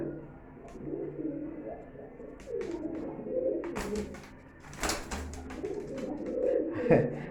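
Domestic pigeons cooing on a pigeon farm, with a low, soft burbling coo repeating through the clip and occasional sharper wing or movement sounds, moderately close.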